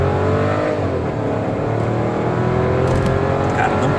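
Volkswagen Polo TSI with a 1.0-litre three-cylinder engine accelerating from inside the cabin, a steady rising engine drone heard close, with some talk over it.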